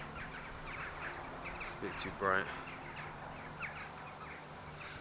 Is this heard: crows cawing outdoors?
yes